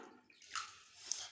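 Water is poured into beaten yogurt for a Tamil-style curry, a faint splashing trickle with a couple of brief louder gushes, close and alone.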